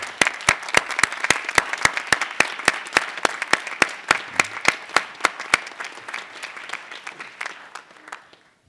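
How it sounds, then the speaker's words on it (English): A graduation audience applauds the graduates' families and parents in a large hall. Dense, even clapping stays steady, then thins and fades toward the end. "stand and turn around and applaud your family and parents for what they have done for you"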